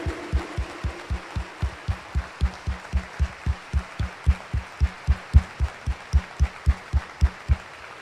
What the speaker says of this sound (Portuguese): Uma salva de palmas para Jesus e para a graça da sua presença em nós, igreja